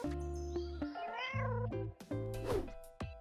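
A cat meows repeatedly at close range, several drawn-out, rising and falling cries with short pauses between, loud and clear without any talk.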